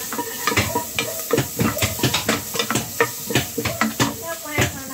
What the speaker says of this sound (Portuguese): Dá aqui uma mexidinha pra dar uma douradinha aqui no alho